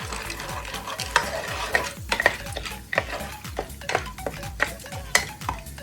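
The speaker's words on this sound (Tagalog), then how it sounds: "Pag na-melt na ang butter, ilagay na natin ang corn kernel." Corn kernels sizzle in melted butter in a popcorn pan while a utensil stirs them, a steady close frying hiss broken by repeated scraping strokes and light metal clinks, with no voices.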